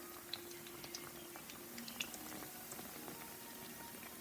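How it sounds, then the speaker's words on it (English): Soft continuous sizzle and crackle of dumplings frying in a pan, with scattered small pops, fairly quiet and close. "And see, it's frying now."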